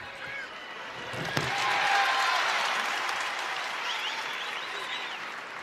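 Arena crowd at the 2025 Big 12 Wrestling Championship finals breaks into applause and cheering after a match, the roar swelling then holding steady, with a sharp thud near the start.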